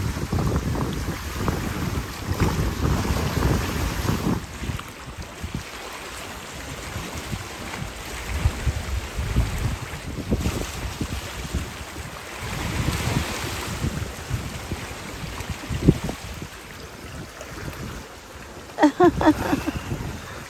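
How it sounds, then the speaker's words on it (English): Strong wind blows across the water at Sherman Island during a fishing outing, a constant rumbling roar that buffets the microphone with gusts and swells, and no talking. "Guys, the wind about to blow us away here."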